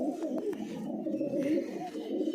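Pigeons kept by a fancier coo in a steady, throaty murmur close by, continuous throughout with a few soft clicks over the top.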